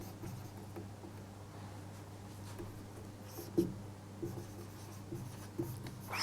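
A pen or marker writes notes on a board during a physics lesson on fundamental quantities, faint scratchy strokes over a low room hum with a few sharper taps.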